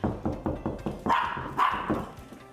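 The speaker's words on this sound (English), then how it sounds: "She's a barker, though. If she hears something, she'll start barking" A dog barks repeatedly in a quick, regular series of sharp, close barks, then a couple of higher, louder yelps.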